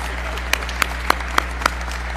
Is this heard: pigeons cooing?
no